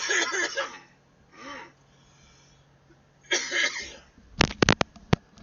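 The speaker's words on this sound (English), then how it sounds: "Excuse me while I take off my headset to cough up a lung." A person coughs hard several times in close succession near the end, loud and up close, after a few rough throat-clearing bursts and wheezy breaths earlier on.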